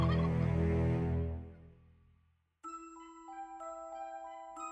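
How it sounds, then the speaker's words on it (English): Turkey gobbling loudly in a rapid warbling burst that fades away into the distance, followed by a brief silence and then unrelated ringing tones. "The turkey turned and ran off into the wilderness, its spectral gobbling fading out as Jason's dad lost sight of it."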